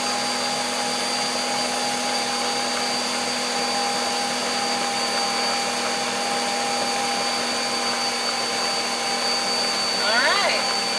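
Electric hand mixer beating vanilla cake batter, a steady, loud motor whine running throughout the clip with a brief bump in loudness near the end.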